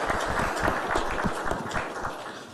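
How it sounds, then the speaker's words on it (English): Audience at the official government launch of Ghana.gov in Ghana applauding the Minister of Information, a steady dense round of clapping from a crowd, loud and continuous throughout. "I believe he deserves a round of applause."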